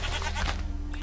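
A sheep bleats in the blocky sandbox game Minecraft, one short, fairly loud baa close by over a steady low background hum.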